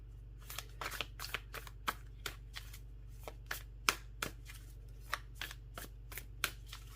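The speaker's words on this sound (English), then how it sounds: "Let me just give a quick little shuffle here." A deck of tarot cards shuffled by hand, giving a run of crisp riffling snaps and soft flicks at an irregular pace over about seven seconds, close and fairly quiet over a steady low hum, with no talking.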